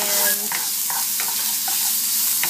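Shrimp sizzle steadily in a hot pan seasoned with salt and cracked black pepper, a continuous close frying hiss broken by a few soft stirring scrapes.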